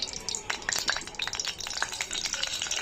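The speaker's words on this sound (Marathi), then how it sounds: "तेल गरम झालेलं आहे त्यामध्ये आपण मोहरी जिरा लसूण टाकून घेऊ" Mustard seeds, cumin and garlic crackle in hot ghee mixed with oil for dal khichdi, a soft close sizzle dotted with quick pops and spits, quiet and without talk.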